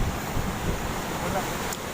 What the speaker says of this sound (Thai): ไม่เคยห่างหายจากคลื่นนะ